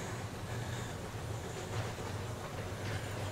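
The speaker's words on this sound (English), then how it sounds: "It's great to see miniature steam trains" A miniature steam train at Rudyard Lake, Staffordshire, rumbles along steadily with a low, continuous mechanical hum and faint rhythmic rattling, no voices.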